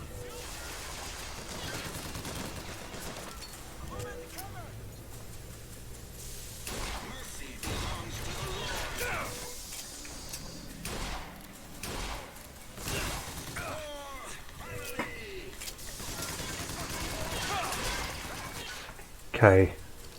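Sniper rifle shots ring out in a BioShock Infinite firefight as sharp, scattered cracks among other gunfire and impacts, with someone talking over parts of it.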